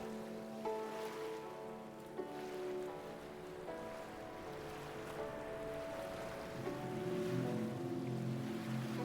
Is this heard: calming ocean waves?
yes